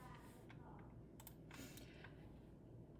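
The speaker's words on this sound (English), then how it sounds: "So then I can start typing there." Soft, scattered keyboard clicks tapping at an uneven pace over a low background hum, fairly quiet and close.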